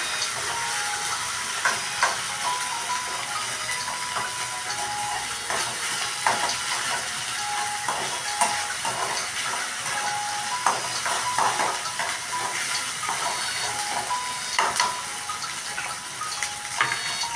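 Ginger garlic paste frying in a pan for carrot fried rice, a steady loud sizzle and hiss with small crackling pops and occasional stirring scrapes, and no talk.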